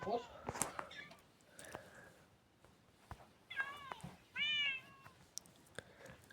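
Cat meowing indoors, a few distinct rising meows with one longer, louder cry near the end, separated by quiet pauses, soft rustling and faint whispered voices nearby.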